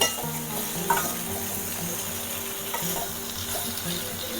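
Chopped brinjal and tomato fry in a pan for brinjal chutney, giving a soft continuous sizzle with occasional light scrapes of stirring, close and fairly quiet with no speech.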